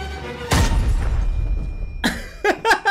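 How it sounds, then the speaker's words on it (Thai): A grenade explosion in the video game Arena Breakout: a sharp blast bursts out and rumbles away into a fading tail, followed by a few short clipped bangs or voice bursts near the end. "ระเบิดเด้งบันได"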